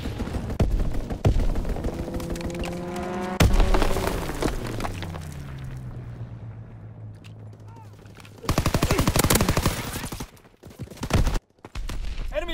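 Heavy strafing gunfire from a fighter pilot killstreak in a shooter video game's hardpoint mode, with repeated loud bursts, a descending engine roar, then more rapid shots, and game voices calling out between them.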